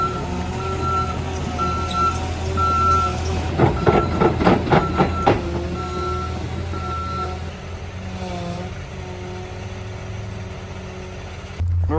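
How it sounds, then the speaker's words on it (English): A delivery truck arrives at a garage building site where Superior Walls foundation panels are being installed, its steady engine rumble underlying a rapid run of loud reversing beeps near the middle, with intermittent softer beeping before and after. "truck's coming right now"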